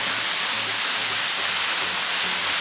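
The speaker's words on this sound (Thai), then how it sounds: "น้ำตกธรรมชาติ ที่สวย สวยสวย" A natural forest waterfall in northern Thailand gives a steady, dense rushing roar that holds constant throughout with no voices.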